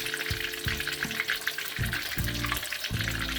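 Stuffed jalapenos fry in a hot pan with a busy, close sizzle and crackle, broken by several soft low thumps as the peppers shift and settle in the oil.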